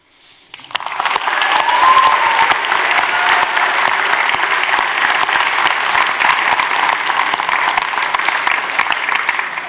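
Loud, dense applause from a large audience at a literary festival evening, rising quickly after a quiet start and holding steady as a continuous wash of clapping.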